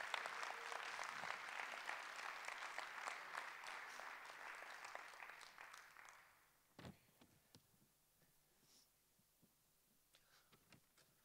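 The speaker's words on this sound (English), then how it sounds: "So can you give a massive big round of applause?" A conference audience breaks into big sustained applause, loud and dense for about six seconds before dropping off to a few scattered claps and faint room noise.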